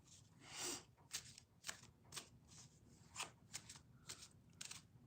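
Tarot cards shuffled by hand in a short run of crisp riffles and soft slaps, a string of close, quiet bursts with brief pauses between them and no talk.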